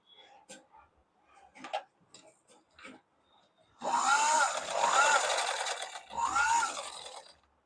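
Sewing machine stitching the lining cloth of a small child's frock: a few faint clicks and handling taps first, then two loud, close bursts of rapid whirring stitching separated by a short pause.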